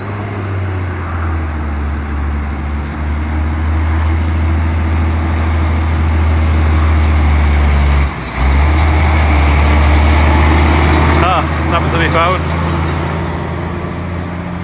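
A Case 1455 tractor pulls a silage trailer up a hill, its engine droning loud and steady throughout with a brief dip partway through, close to the listener, while people talk nearby.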